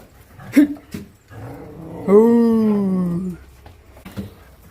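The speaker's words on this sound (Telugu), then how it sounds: "కుక్కలు వచ్చాయి, ఏమైంది రావడానికి అని చల్రా" Dogs at a village home, with a short growl early on and a longer whining, growling vocalisation in the middle, close and fairly loud against quiet background noise.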